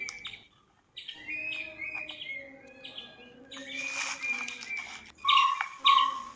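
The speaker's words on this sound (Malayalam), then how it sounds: "തത്ത് ചിലയ്ക്കുന്നതാണ് ആ കേൾക്കുന്നത് കൂടെ പരുന്ത് കൂവുന്നുണ്ട്" Outdoor bird calls during the rainy season, with a parrot's repeated chirps and a kite calling, sharp high notes in bursts that grow louder and more crowded near the end.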